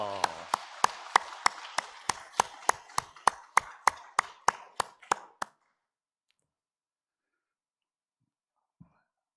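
A church congregation claps to welcome newcomers, about seventeen sharp claps in a steady, slightly quickening unison rhythm, then stopping abruptly into near silence.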